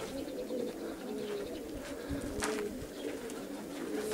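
Pigeons in a loft coo softly, a few low rolling calls close by over quiet background noise and a faint rustle, with no voices.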